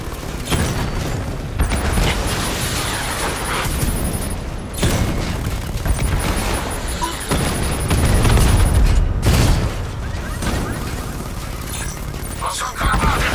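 Gunfire and explosions in the Batman Arkham Knight video game, with loud bursts and booms that repeat over a dense, sustained roar of combat, alongside mechanical noises and occasional voices.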